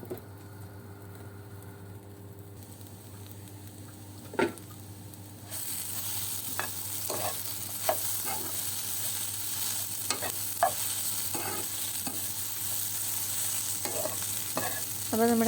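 Ivy gourd frying in a pan for kovakka mezhukkupuratti, a steady sizzle that gets louder partway through, broken by repeated clinks and scrapes of stirring, heard close with no talk.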